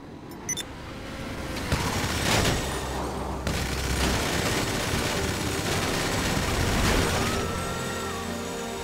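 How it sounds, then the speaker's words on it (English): Minigun fire in the GTA Online video game, rapid sustained bursts of gunfire with booming impacts, loud and dense over engine noise. "Now they will pay the price with my minigun."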